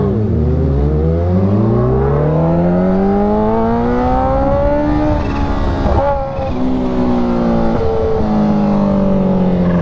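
Kawasaki Ninja H2 motorcycle with a new aftermarket exhaust revs hard and continuously, its deep engine note rising and falling loudly and close through repeated throttle blips.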